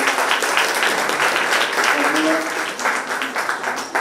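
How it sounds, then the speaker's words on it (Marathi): An audience at a reading-circle award ceremony claps loudly and steadily, a dense wash of many hands that continues the whole time and thins slightly toward the end. "सर्वांनी जोरदार टाळ्या वाजवल्या."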